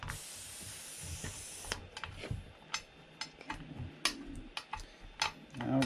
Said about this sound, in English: So let's first let all the air out.